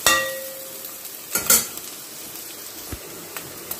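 Spinach puree for palak paneer goes into a hot frying pan, giving a soft steady sizzle, a few sharp splattering bursts and light clinks of a spoon stirring, with no talking.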